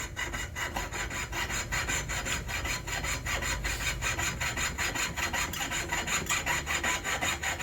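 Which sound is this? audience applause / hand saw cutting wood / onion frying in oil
hand saw cutting wood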